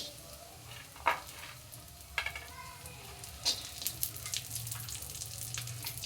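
Raisins go into a hot kadhai after walnuts while making winter laddu with ghee, giving a few soft clicks and light stirring scrapes over a faint, quiet sizzle.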